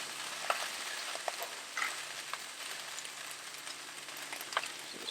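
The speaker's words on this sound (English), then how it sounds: "What I'm really looking for is to see this rice start to really fry and kind of crisp up a little bit" Rice frying and crisping on a Blackstone flat-top griddle gives a faint, steady hiss with soft scattered crackles and a few light scrapes, quiet and close, no voices.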